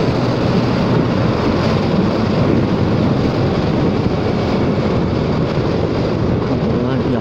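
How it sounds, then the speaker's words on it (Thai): Strong wind buffets the microphone of a rider on a Forza 300 scooter, making a loud, constant roar. Engine and road rumble sit underneath the wind for the whole stretch. "ลมแรงมากอ่ะ"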